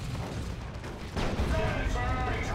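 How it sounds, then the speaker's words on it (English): A Predator tank firing its autocannon in the strategy game Dawn of War 2: Retribution, with a burst of heavy booming shots that swells midway into louder sustained battle noise over a rumbling low end. "Here comes a Predator tank though, keeping it to this auto cannon for the time being."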